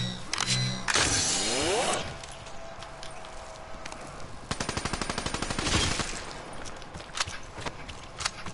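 BM and AK rifles fire in the Black Ops 3 video game, a rapid burst of automatic shots rattling out in the middle, followed by a few scattered single bangs amid other game effects.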